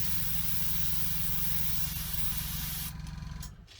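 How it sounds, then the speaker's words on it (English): A cheap KK Moon airbrush sprays paint in a steady, close, continuous hiss with a low compressor hum beneath, then the spray cuts off abruptly near the end. "a little bit of paint exiting when you first depress the air"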